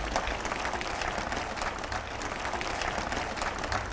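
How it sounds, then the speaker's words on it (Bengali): Audience at a lecture applauding for the mothers present, a steady, dense wash of many hands clapping close and loud with no talk over it. "মায়েদের জন্য করতালি শুনতে"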